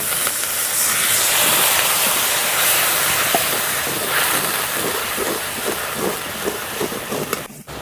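A splash of water hitting a hot pan of ground spices such as Kashmiri red chilli powder, releasing a loud, steady steam hiss that fades slightly, ending with a short clatter.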